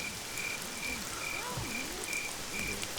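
Rain falls on city streets as ambience for a tabletop roleplaying game: a steady, soft hiss of drops with repeated high insect chirps and croaking frog-like calls woven through, even and unbroken.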